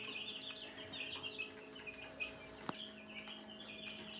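Thirteen-day-old free-range chicks peep and cluck in quick, high chirping bursts, fairly close, with a steady hum and one sharp knock in the background.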